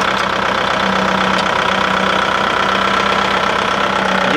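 A Kubota MU5501 4WD tractor diesel engine with balancer shaft and a fitted 6.5-foot rotavator runs steadily nearby, a loud continuous hum with a fast even knocking pulse and no speech.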